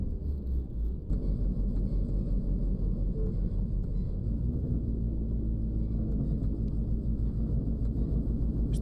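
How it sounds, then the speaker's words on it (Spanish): Car engine in the driving game Taxi Life, running rough and heavy like a tractor: a loud, steady low rumble that holds throughout with no pauses. "¿Cómo suena el coche? Parece un tractor."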